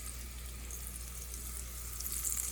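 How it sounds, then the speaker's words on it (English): Hot oil poured over chili crisp ingredients in a bowl gives a steady, close hiss of sizzling that runs unbroken and swells slightly near the end, with no voices. "you just pour the hot oil over the ingredients here, and you get that nice satisfying sizzle right in the bowl"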